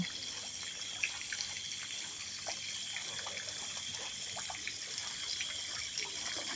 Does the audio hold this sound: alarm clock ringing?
no